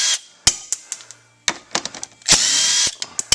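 Power tool spinning out the four brake back plate bolts on a 2003 Honda Rubicon TRX500FA ATV, close and loud, heard as short whirring bursts with sharp clicks and one longer sustained run.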